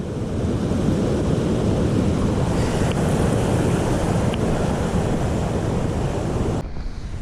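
Creek water rushes steadily along a hiking trail near Anthony Creek, a continuous broadband wash of flowing water heard close by for several seconds before cutting off near the end.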